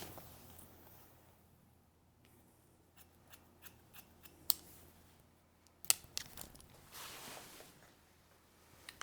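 Scissors snip through a client's hair in a series of quiet, crisp, close clicks spaced irregularly, with soft rustling in between and no talking.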